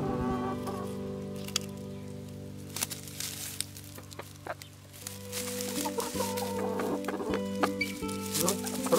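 Zielononóżka hens clucking in a chicken coop in the morning, with close, overlapping drawn-out clucks and murmurs from several birds that grow busier toward the end, with light scratching and rustling around them.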